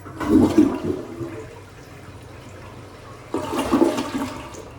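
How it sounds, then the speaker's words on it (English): A household bathroom toilet flushes twice, each a rushing gurgle of water that settles into a softer trickle of refilling between the bursts, close and with no talk. "maybe somebody didn't flush it for a long time"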